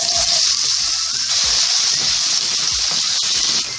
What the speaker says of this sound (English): Next we are going to add in 4 to 5 diced potatoes.